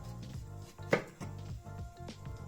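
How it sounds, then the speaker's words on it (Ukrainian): A knife chops cucumber on a board, several short crisp knocks at an uneven pace, close and fairly quiet. "Також нарізаємо три дольки огірка"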